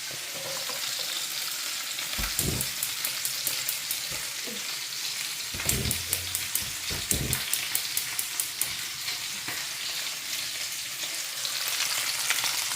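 Onion and crushed garlic frying in hot oil, a dense continuous crackling sizzle with a few bursts of louder spattering and spoon scrapes partway through, no speech.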